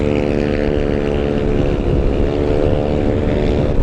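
A Honda ADV 350 scooter rides through the city at night, its engine droning steadily and loudly with wind rushing past the microphone throughout.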